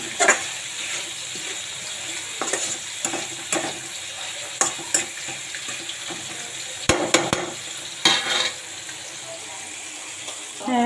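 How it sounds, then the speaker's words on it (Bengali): Taro flowers frying with shrimp in a pan, a steady close sizzle with repeated sharp stirring scrapes and clacks throughout, plus a brief sound of running water near the end. "এটা আমি চিংড়ি সুতো দিয়ে ভাজি করছি"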